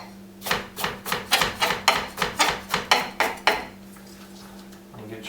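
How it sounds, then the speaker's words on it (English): A knife chops carrots into slices on a cutting board, a run of about a dozen quick, evenly spaced knocks, close and clear, then a pause with a soft low hum underneath. "Make sure you cut those ends off."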